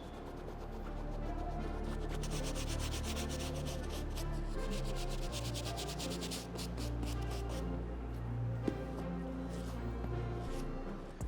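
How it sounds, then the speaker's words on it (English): A microfiber towel scrubs quickly back and forth over the mesh of a Nike Futura Dunk sneaker, a close, continuous rhythmic rubbing with no talk. "I do have our microfiber towel, and I'm just using it to help scratch away and kind of lift off any stains"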